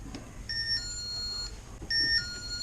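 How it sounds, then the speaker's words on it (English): Bunker Hill driveway alarm from Harbor Freight chiming, two short bursts of high electronic tones, each a quick stepped melody, fairly quiet against faint background noise. "we bought this driveway alarm at Harbor Freight the other day"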